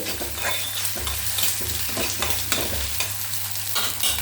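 Onions sauté in hot oil for a spicy tomato omelette gravy, giving a loud, steady sizzle with occasional stirring scrapes throughout, and no voices.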